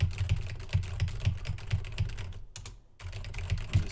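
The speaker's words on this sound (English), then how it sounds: "Typing some nonsense," Rapid, steady clicking of keys on a computer keyboard, with a brief pause before the typing resumes.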